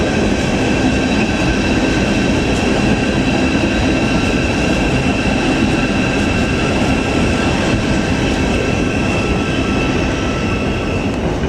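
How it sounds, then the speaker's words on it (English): A Thameslink train bound for Brighton runs through Cambridge station, giving a loud, steady rolling rumble with a continuous high whine and light wheel noise. "Got the Thameslink service to Brighton."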